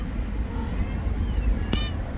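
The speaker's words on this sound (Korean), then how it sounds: "응, 새끼가 냐옹하니까 오네." Outdoors, a mother cat calls to her kittens with a single short meow. It rises out of steady background noise while a person talks nearby.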